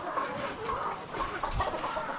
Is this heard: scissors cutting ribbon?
no